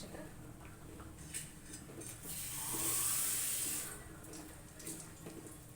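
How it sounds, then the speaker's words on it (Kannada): Water poured from a glass into a rice pot while making chicken biryani, a steady splashing pour that swells in the middle and tapers off, close by with no talk. "ನಾನೊಂದು ಐದು ಗ್ಲಾಸು ನೀರು ಸೇರಿಸ್ತೀನಿ"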